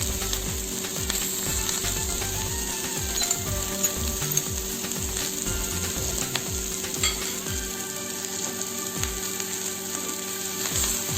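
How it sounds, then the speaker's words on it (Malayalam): Boiled rice frying and sizzling in a pan for honey ginger fried rice, a steady loud hiss with faint scraping stirs throughout and no talk. "അതിനകത്ത് നമ്മൾ ബോയിൽ ചെയ്ത് വെച്ചിരിക്കുന്ന റൈസ് നമ്മൾ ആഡ് ചെയ്യാണ്."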